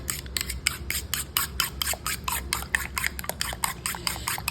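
A homemade hair mask mixture is stirred in a bowl, giving a steady run of short, quick scraping strokes close up, with faint background hiss and no talking.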